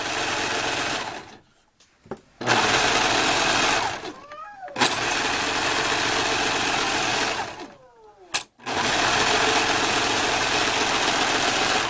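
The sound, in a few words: serger sewing machine stitching fabric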